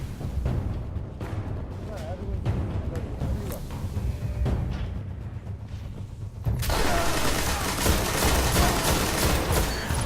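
Scout rifle gunfire in the video game Destiny, a series of sharp shots and bursts heard over game effects, with a louder, denser stretch of noise near the end.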